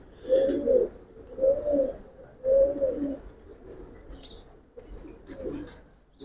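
Old-breed Giribaz pigeon, a female, cooing close by in a series of four or five throaty, rolling coos in a steady rhythm, each lasting under a second, with faint background noise.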